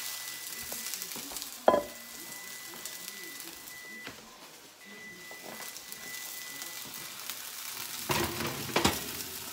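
Green beans for an apricot chicken meal kit sizzle and fry steadily in a hot pan, a close, continuous crackle with a few louder clattering knocks of a utensil against the pan.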